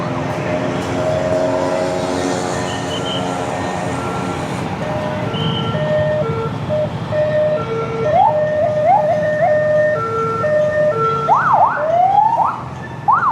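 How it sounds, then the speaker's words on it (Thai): A rescue vehicle's wailing siren rises and falls over steady night traffic rumble in Vientiane, Laos, growing clearer and sweeping quickly toward the end as the vehicle passes. "มาทางนั้นรถฉุกเฉินรถกู้ภัยที่โอ้มาทางรถ"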